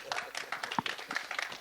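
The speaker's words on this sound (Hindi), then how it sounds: "तो एक बार इस बात के लिए तालियां हो जाए" Audience applause at a film event, a short patch of steady, moderately distant clapping from a crowd with no voices over it.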